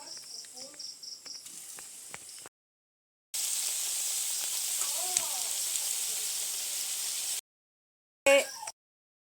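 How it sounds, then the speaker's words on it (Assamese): Potato chops (aloo chop) fry in hot oil with a steady, bright crackling sizzle, broken up by short gaps and some quieter clattering. "এয়া মোৰ আলু চপ হৈ আছে, সেয়া বনাই আছোঁ"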